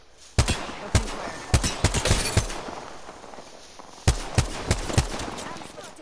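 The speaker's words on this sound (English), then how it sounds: "Open fire." Gunfire in Apex Legends: two bursts of loud, close single shots about half a second apart, with a few seconds of fading echo in between and a voice partly under the shooting.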